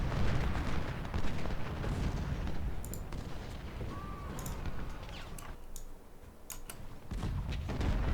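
Artillery in the Civil War game Ultimate General: Civil War keeps up a continuous deep rumbling barrage of booming fire, with scattered sharp clicks and a faint whistling tone partway through, loud and sustained.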